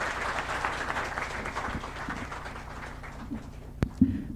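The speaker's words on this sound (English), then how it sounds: "A round of applause for ma'am," An audience applauds at a moot court prize distribution ceremony. The clapping is thick at first, then gradually thins and fades, and a few scattered knocks and faint noises remain near the end.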